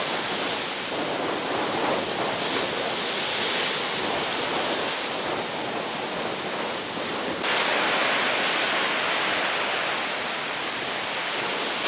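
Strong wind roars on the Baltic seashore of the Curonian Spit near Zelenogradsk, buffeting the microphone in a constant loud broadband rush that blends with the steady wash of surf and has no pauses.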